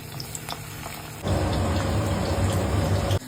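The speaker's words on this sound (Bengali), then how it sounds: "এবার এই পনির গুলো একে একে আমি কড়াই ছেড়ে দেব।" Paneer pieces dropped one by one into hot white cooking oil in a kadai (wok) start a loud, steady sizzle and crackle that jumps up suddenly and holds close, with a quieter hiss before the pieces go in.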